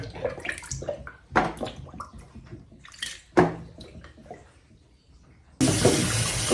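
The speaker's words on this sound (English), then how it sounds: "And I will release the water and let it go now." Rinse water from washed fufu ingredients splashes out in several uneven pours and trickles, with gaps between them. A loud, close, steady gush of water follows at the end.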